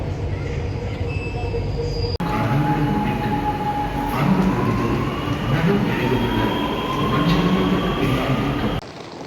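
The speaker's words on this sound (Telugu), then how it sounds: "ఇంకో టూ త్రీ మినిట్స్ ఉంది ట్రైన్ రావడానికి" A metro train running at a station: a loud, steady rumble with a rising electric whine and faint wheel squeal, continuous throughout and cut off abruptly near the end.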